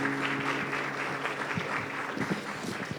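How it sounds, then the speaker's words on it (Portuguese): A Baptist church congregation claps to the Lord at the start of a Sunday evening service, fairly soft steady applause with a faint low hum beneath. "Para aquecer, aplauda ao Senhor"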